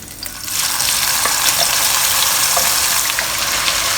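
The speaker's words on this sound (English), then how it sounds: "We are going to fry this spice mix until it's darker in color, dark red in color" Spice paste for Singapore Katong-style laksa sizzling loudly in hot oil, a steady, close, hissing crackle that starts abruptly and stays constant with no talk over it.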